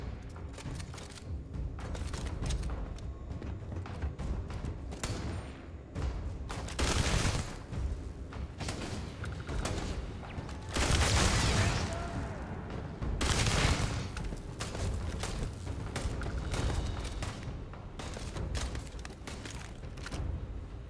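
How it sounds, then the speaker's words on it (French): Pistol shots and other gunfire in a Starfield faction battle, sporadic bursts of fairly loud cracks with surges of heavier firing at intervals across a long, busy combat scene. "C'est qu'il tire avec un pistolet à la con."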